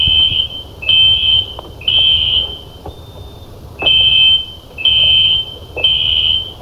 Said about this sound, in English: It's a pull station. It shouldn't go off.